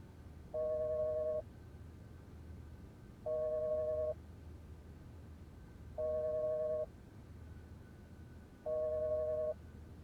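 A telephone busy signal beeps four times at an even, slow rhythm, each tone lasting under a second with quiet gaps between.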